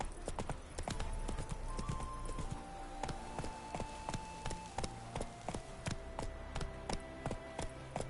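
Roach, a horse in The Witcher 3 on PS5, gallops with a rapid, steady clip-clop of hooves that carries on throughout, close and fairly loud, with game sounds faintly beneath.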